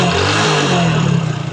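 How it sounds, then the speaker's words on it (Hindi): A Hero Glamour motorcycle engine runs loud and close, a rough mid-pitched drone that lifts briefly in a short rev, with no voices. "तो इंजन की जो साउंड है काफ़ी बेहतरीन"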